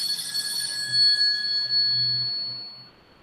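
A telephone rings in a lecture hall during a philosophy class, a bright electronic bell-like tone repeating for about two and a half seconds before cutting off, with low room murmur underneath.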